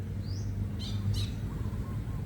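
A bird in the city of Davao, Philippines, gives a few short, shrill calls over a low steady background hum, fairly faint and distant.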